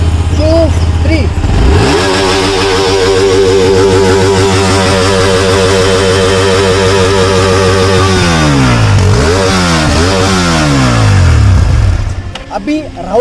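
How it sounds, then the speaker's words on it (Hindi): A Hyosung GT250R or Royal Enfield Continental GT 650 motorcycle engine is held at a hard, sustained rev for several seconds, loud and close, then drops away through a couple of blips back to idle. "मैं 5 सेकंड के लिए एक्सट्रीम रेव करके रखूँगा तो मतलब समझ में आएगा कि क्या साउंड है"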